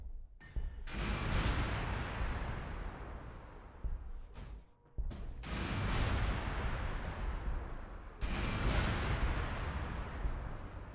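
Loud, continuous roaring blasts of gunfire volleys and explosions from the Warhammer 40k Gladius video game fill the clip, broken by brief gaps, with heavy rumbling bursts restarting after each pause.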